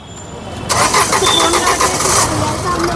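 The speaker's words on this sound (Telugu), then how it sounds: "లైట్ బంద్ కరకే గాడి స్టార్ట్ కరో" A 2015 Renault Duster RXZ 4x4 engine cranks and fires with a sudden loud catch, then settles into a rough, slightly fluctuating idle close by, with a voice talking over it.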